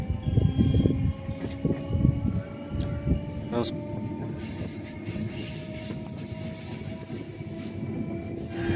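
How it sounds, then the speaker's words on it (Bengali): A passenger train on the Masagram to Rainagar line in Bankura rumbles steadily as it rounds a curve, heard from inside the last compartment, with rattling wheels and a few faint squeals over a constant, close drone. "দেখুন ফুল ট্রেনটি টার্ন নিচ্ছেন"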